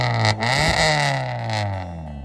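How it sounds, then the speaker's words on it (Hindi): A modified Maruti Baleno car with a Velvotronic aftermarket exhaust revs up and down. The exhaust note rises and falls as a loud, throaty drone for a couple of seconds, with no talking. "गाइस अभी आप लोग वेल्वोट्रॉनिक की साउंड सुन सकते हो"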